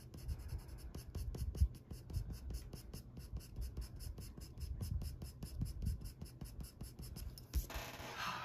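Colored pencil scratching steadily across paper while coloring an English Cocker Spaniel page, a quick, close rhythm of short back-and-forth strokes, quiet and continuous with no talk, ending in a brief rougher scrape.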